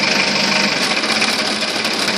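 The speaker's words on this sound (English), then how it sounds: "What you can do actually is you can rev up the engine" Forklift engine revving hard while the forks are raised, a loud, steady mechanical whine and drone with a rapid buzzing texture that holds constant throughout, with no voices.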